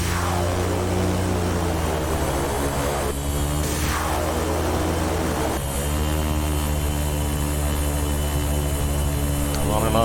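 Airliner thrust reversers roar after landing in the X-Plane 11 flight simulator, a loud steady engine drone with rising and falling whines as the reversers engage and release and the aircraft slows on the runway.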